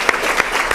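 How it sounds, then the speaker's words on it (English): A brief burst of steady clapping from a crowd, dense and continuous with a few sharper claps standing out. "let's give them a round of applause"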